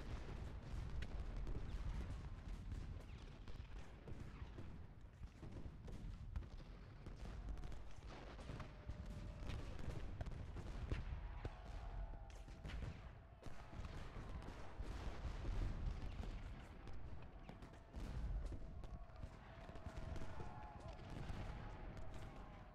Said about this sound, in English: That's a hell of a volley against Perry as his troops almost came into contact.